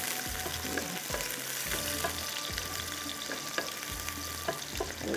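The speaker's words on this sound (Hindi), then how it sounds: "यहाँ पर प्याज ब्राउन हो रहा है" Onions browning in hot oil for pulao make a continuous frying sizzle with repeated low stirring scrapes in an even rhythm, close and moderately loud, no voices.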